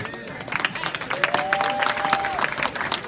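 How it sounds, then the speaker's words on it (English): Wedding guests applaud after the reception speeches, a dense, steady patter of many hands filling the room, with a thin whistle rising above it and chatter mixed underneath. "Give them a round of applause."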